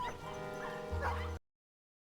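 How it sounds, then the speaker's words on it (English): A cartoon Dalmatian dog in a PC read-along game gives a short run of yapping barks and whimpers, close and clear, then cuts to silence. "Oddball sent a bark for help to all the dogs in London"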